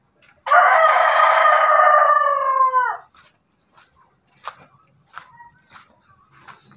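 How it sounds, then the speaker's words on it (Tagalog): A native-breed rooster crows loudly and close by for about two and a half seconds, followed by faint scattered clucks and rustling. "yung ating native na manok"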